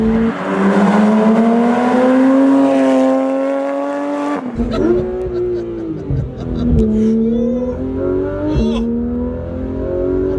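A Porsche 911 GT3 RS engine accelerates at full throttle, a loud, close, high-revving wail climbing in pitch, then briefly dropping at a gear change before climbing again, with some cabin noise.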